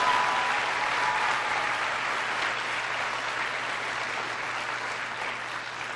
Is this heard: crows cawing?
no